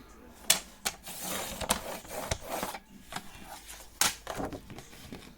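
Decorative paper is cut to size for a handmade album, giving quiet, irregular clicks, snips and scraping strokes close by.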